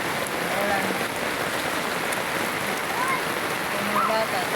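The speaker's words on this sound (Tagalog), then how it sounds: "Tubig. Ay, tubig. Ang tubig. Mabaha. Ulan." Steady rain pattering down on a hard surface, a dense even hiss of drops that holds constant throughout, with faint distant voices underneath.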